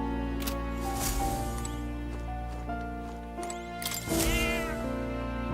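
A cat in the video game Metaphor: ReFantazio gives a few short meows over a steady bed of tonal game music.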